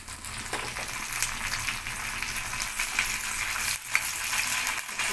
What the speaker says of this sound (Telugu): ఇప్పుడు కరివేపాకు వేస్తున్నాను.